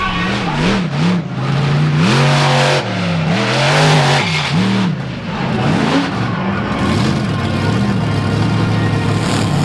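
A 4x4 truck engine roars and revs hard during a freestyle run at the Fall 4-Wheel Jamboree Nationals in Indianapolis, heard onboard: loud, continuous, with repeated rising and falling revs and tire noise.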